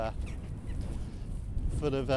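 Ducks and swans honk and call at a distance over a steady outdoor background at a fishing lake pond, with a clearer burst of honking near the end.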